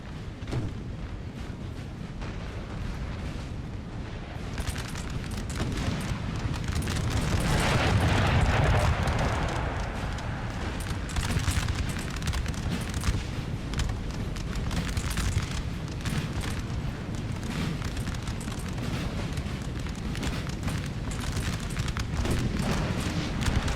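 Heavy howitzer artillery fire from Napoleon: Total War, a continuous dense wash of booming blasts and rumbling battle noise that swells midway, loud and sustained with no voices.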